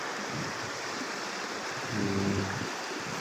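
Water from a spring at a resort, swollen after three days of rain, rushes in a steady, fairly faint flowing wash with no talking.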